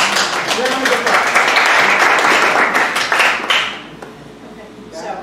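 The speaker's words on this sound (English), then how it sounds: "Round of applause." Loud round of applause at a parks and recreation commission meeting, dense clapping from a room of people that fades out after a few seconds.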